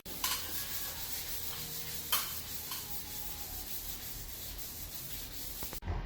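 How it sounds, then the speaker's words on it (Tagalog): Sandpaper rubs steadily over the body of a Suzuki APV car, a continuous close abrasive scrape with brief stronger strokes and a sharp knock near the end. "sinagad na natin sa liha yung katawan niya"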